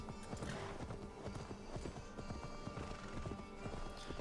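Horse hooves clip-clop in a steady, close rhythm with whinnying neighs mixed in, from Assassin's Creed Valhalla gameplay, set against constant in-game background ambience.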